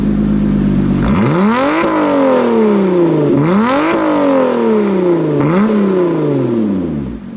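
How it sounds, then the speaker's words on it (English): A 2020 Lotus Evora GT's sport exhaust revs hard several times in a row, each loud rise in pitch followed by a falling growl, close by with no talking. "If you press that, it turns on the sport exhaust, and it makes a surprisingly big difference."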